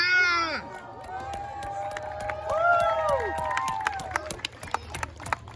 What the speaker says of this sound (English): You guys can cheer for him more than that if you'd like.